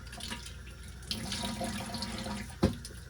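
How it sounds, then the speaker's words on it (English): Tap water runs steadily over milking equipment in a dairy setting as it gets a rinse, a continuous close splashing wash with a sharper splash near the end. "So first up, I just give everything a good rinse, and then I'll come back through and scrub it."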